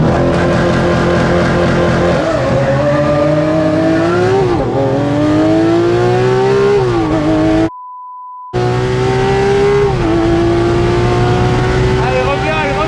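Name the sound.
cars accelerating in a drag race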